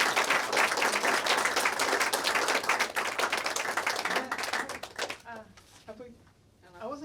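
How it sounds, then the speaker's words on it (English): Audience clapping for the speakers at a conference session on refugees and host communities, a dense burst of applause that fades out after about five seconds, followed by nearby talking. "Can we have a big round of applause for the speakers,"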